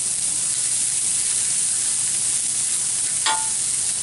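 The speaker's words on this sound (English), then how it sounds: "First, we warm up the veggies." Vegetables warming on a flat-top griddle, a bright, steady close sizzle with constant hiss and a brief scrape partway through.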